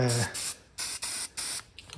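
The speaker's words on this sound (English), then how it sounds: "squirt a little bit of spray paint down that hole" Three short hissing bursts of a spray paint can, each about a quarter second, sprayed down a hole during an Army M715 winch mount and bumper build, with brief speech at the start.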